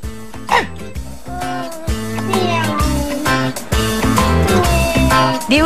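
Cat meows ring out over a rhythmic musical backing with a steady bass pattern, repeating several times across the clip.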